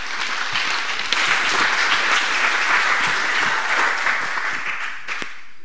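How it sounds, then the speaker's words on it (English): A conference audience breaks into lively applause for a speaker, dense and sustained clapping that holds steady for several seconds before easing off. "Give him a clap."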